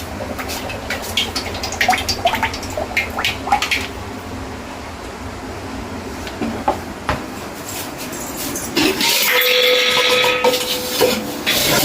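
Cooking oil is poured into a frying pan for making bajji, after some light clatter of cookware, ending in a steady, close, rushing pour.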